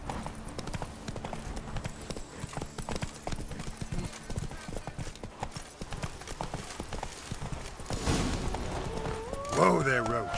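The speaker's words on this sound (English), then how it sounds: "Whoa there, Roach." A horse gallops in the Witcher 3 Blood and Wine video game, steady rapid hoofbeats running under game music and a voice, before a louder neigh near the end.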